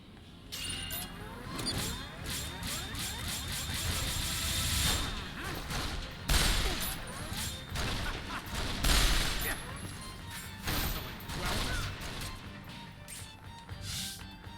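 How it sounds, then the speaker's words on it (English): A slow-moving missile attack in Resonance of Fate erupts into a long stretch of crashing blasts and rattling impacts, loud and dense, with a voice heard faintly under the barrage. "Oh no, it's got a missile! Very slow moving doinking missile."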